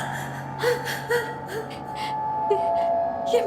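Maya crying in a horror film: faint, breathy sobs and gasps recur every half second or so, soft and close, over a steady low hum and a thin tonal drone.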